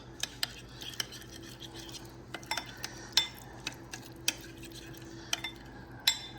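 A spoon stirs a homemade L. reuteri yogurt mixture, giving sharp, irregular clinks and taps against the container over a quiet, steady background hum.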